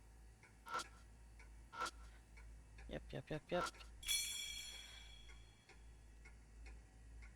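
Clock in a video game, heard as a few scattered, faint ticks and soft knocks, then a short ringing chime, with a brief spoken word in the quiet background.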